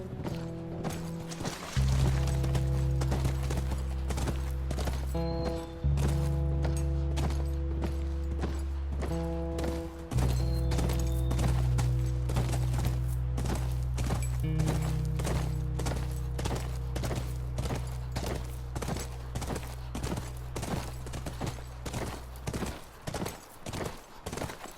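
Steady clip-clop of horse hooves from the video game The Last of Us, in an even trotting rhythm, running continuously over sustained background music.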